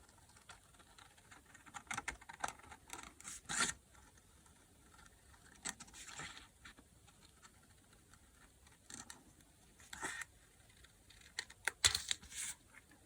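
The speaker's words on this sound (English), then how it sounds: "So now I can just cut through all 3 layers at the same time." Scissors or a blade cut through three stitched layers of paper card for a snow globe shaker card, giving short crisp snips and taps in scattered bursts against a quiet room.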